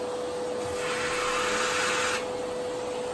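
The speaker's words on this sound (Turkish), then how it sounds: "Hadi kapat artık elektrik süpürgesini" A child runs a vacuum cleaner at home, producing a steady, continuous motor whine with a thin high tone and a slight surge in the middle as the nozzle moves, with no talking.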